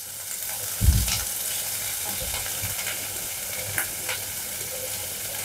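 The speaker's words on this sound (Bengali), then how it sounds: "একটা পেঁয়াজ কাটা, 10-15 কোয়া রসুন, আদা 1 ইঞ্চি দিয়ে এটা সামান্য ফ্রাই করে নেব অল্প।" Chopped onion, garlic cloves and an inch of ginger frying in a pan for a duck egg curry: a constant hiss of sizzling oil with a thump early on and occasional stirring scrapes, close, no talk.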